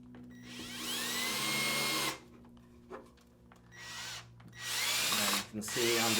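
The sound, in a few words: power drill driving screws into a lid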